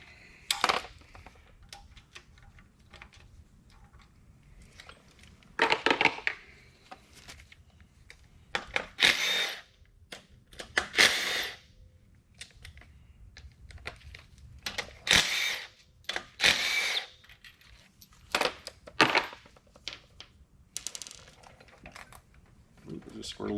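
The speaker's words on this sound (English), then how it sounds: "taking a bunch of bolts out" Wrenches rattle and clink in scattered bursts as bolts come out of a 2.5L Duratec engine being converted for NC Miata use, with sharp metallic clatters separated by quiet pauses.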